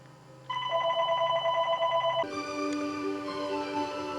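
A telephone rings with a steady electronic warbling tone, loud and near, shifting to a different ring pattern partway through, no talk.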